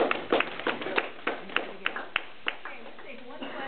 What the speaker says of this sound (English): let's give a round of applause first